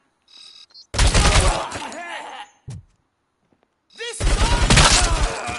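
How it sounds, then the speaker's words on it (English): Heavy gunfire from a big gun in the RoboCop video game, two loud dense bursts of booming, crackling shots separated by a short gap, with a brief voice and game sounds between them. "I'll use a big ass gun."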